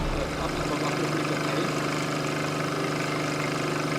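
A BAUER VERTICUS compressor in its super silent version runs with a steady, even mechanical hum and drone, constant throughout with no voices.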